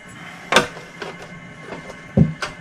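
Bone folder or stylus scoring lines into 6-inch designer paper for a Halloween treat box, heard as a few short separate scrapes and taps on a quiet tabletop, close and moderately loud.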